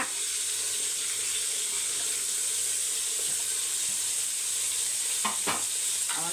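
Peas, meal maker chunks, carrots and beans sauté in a hot pan with a steady, hissing sizzle, and a few brief scraping stirs come near the end.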